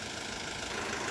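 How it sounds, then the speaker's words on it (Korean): An Isuzu forklift diesel engine runs with injector pilot injection disabled, giving a louder, harsher knocking idle. It drones steadily and close for the whole moment with no talk. "이와 같이 예비 분사를 제한하면 엔진의 소음이 커집니다."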